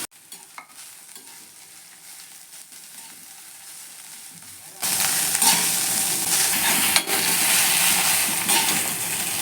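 Grated watermelon rind hitting hot ghee, where a faint background suddenly bursts into a loud, steady, close sizzle that keeps going, with a few stirring knocks and no talk.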